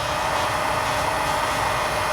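A Holystone HS175D drone flies nearby with a constant broad whirring hum from its propellers. The sound is loud, steady and unbroken, with no talking over it.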